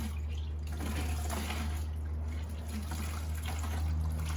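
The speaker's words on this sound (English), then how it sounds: "get everything out of there as I'm pouring this water" Water poured from a gallon jug into a car wash bucket to rinse it out, a steady close trickling and splashing that runs continuously over a low background hum.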